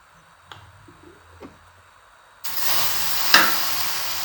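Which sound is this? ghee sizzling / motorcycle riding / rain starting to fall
ghee sizzling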